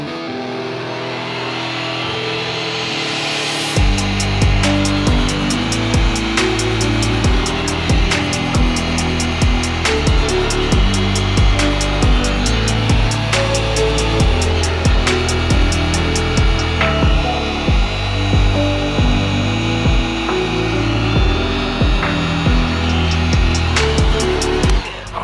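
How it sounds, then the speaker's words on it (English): A heat gun blows hot air over a Bluetooth LED underglow kit wiring on a Subaru Legacy GT, a steady loud whooshing hiss switching on abruptly and running continuously with faint periodic clicks. "you just hit it with the heat gun"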